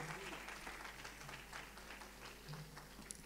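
Church congregation applauding loudly during a French-language worship service, a dense steady wash of clapping with a faint murmur of voices mixed in throughout.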